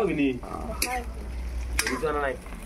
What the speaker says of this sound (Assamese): আদা ৰেহন এইবিলাক চব ভাজি আছে আমাৰ